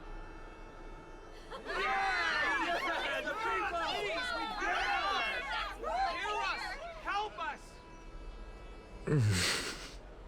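A crowd murmurs and chatters in the video game Honkai: Star Rail, with many overlapping voices forming a dense babble that swells for several seconds and then fades, followed by a brief sharper sound near the end.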